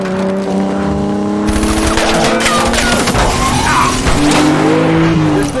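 Cars in a movie chase scene swerve through evasive driving, engines roaring close and loud with squealing, skidding tires and sharp impacts layered over the continuous motor noise.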